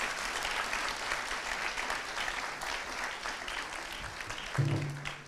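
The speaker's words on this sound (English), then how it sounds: "Can we please have another round of applause for our first panelists?" Audience applause for panelists at a sustainability and community conclave, a dense, continuous round of clapping from a sizable crowd filling the whole stretch at steady loudness.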